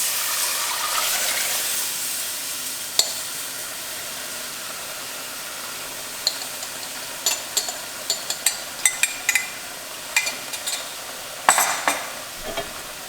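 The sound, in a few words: beef broth added and stirred into flour and vegetables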